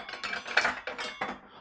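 Metal Yorkshire pudding baking pans being picked up and handled in a home kitchen, giving a few close clanks and clinks spread over under two seconds, with no talking.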